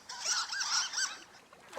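Loud, close waterfowl calls from ducks in the video game Firewatch: a steady run of nasal, honking quacks that overlap one another for most of the stretch, then fall away near the end.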